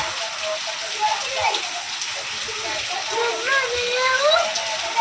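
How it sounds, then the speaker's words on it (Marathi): Rain patters steadily in the background while people talk and laugh over it, with some high chirping sounds mixed in. "पाऊस आलेला आहे बघू शकता"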